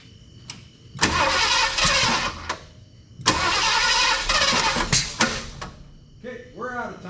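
A Ford Bronco engine cranks and fires twice, roaring loudly in two long bursts with sharp clanks between, then settles into a rough idle as someone talks near the end.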